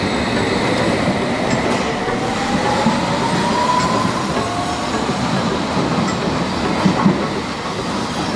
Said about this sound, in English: I want you to watch a train come into the platform towards Edgware Road.